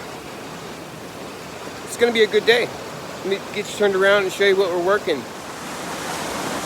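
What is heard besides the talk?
swollen creek water raging past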